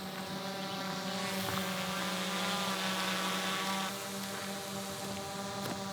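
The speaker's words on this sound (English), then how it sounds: "So now the drone is keeping its distance from me," Camera drone hovers and follows in tracking mode outdoors, its propellers giving a steady tonal whine with a harmonic buzz, moderately distant and constant, with wind noise and no talk.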